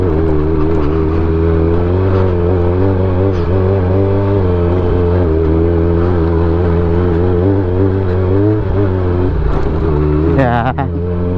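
A Honda CB400 motorcycle rides along a mountain road near Mt. Atugu in Ifugao, its engine humming steadily and close with gentle rises and falls in pitch. Voices talk faintly beneath it, and a brief louder clatter comes near the end.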